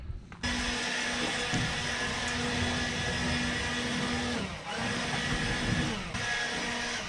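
A handheld air blower blasts dust out of the back of a car interior, a steady loud rushing roar that runs almost without a break and dips briefly twice.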